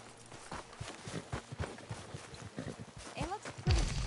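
Hooves of a horse clip-clop at a walking pace in the video game Red Dead Redemption 2, an even rhythm of soft thuds over several seconds, with a voice speaking near the end.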